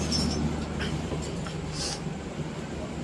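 A Humsafar Express train starts to depart with a low, steady rumble close by. There are faint clinks and some brief higher-pitched hiss, and no one speaks.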